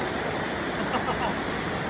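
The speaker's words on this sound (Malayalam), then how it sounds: "സൂപ്പർ മഴ" Heavy rain falls in Palakkad, a dense, even roar of water close by that holds steady throughout the short stretch, with no talk over it.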